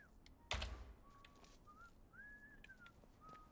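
Outlaws whistling in the video game Atomfall: several thin, gliding whistle tones drift in and out at moderate distance, following a sharp thump near the start.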